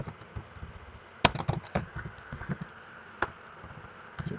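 Rapid keystrokes on a computer keyboard, typed while setting up a local WordPress site on XAMPP, with an irregular clicking rhythm and a couple of sharper louder key hits, close and alone with no talking.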